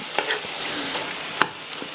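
Chicken crackles and sizzles in hot oil, a constant hiss broken by a few sharp pops and a faint clink, close by.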